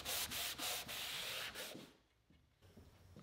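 A wet rag wipes glue squeeze-out off a wooden bookcase face frame, giving several close, loud rubbing strokes in quick rhythm that fade into quieter dabs.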